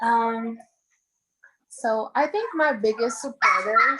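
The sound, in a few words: dog barking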